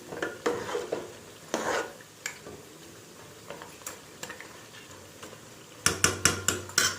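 Young jackfruit is stir-fried on high flame, a light sizzle under repeated scrapes and taps of a spoon against the pan, ending in a quick run of sharp clanks.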